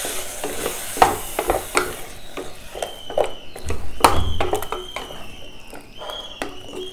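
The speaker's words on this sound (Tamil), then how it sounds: "இப்போ இதில் வந்து தக்காளி ஜூஸ் சேர்த்துக்கிறேன்" Tomato juice goes into a sizzling pan of spiced brinjal kara kuzhambu, with steady frying hiss under repeated scraping stir strokes of a spoon against the pan, close and moderately loud.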